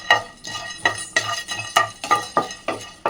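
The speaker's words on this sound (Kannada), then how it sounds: "ಅದಕ್ಕೆ ಹುರಿತಾ ಇದ್ದೀವಿ." A metal spoon scraping and stirring spices as they dry-roast in a pan for masala tea, a steady rhythm of about ten close scrapes and clinks, each with a short rasp, with no one talking.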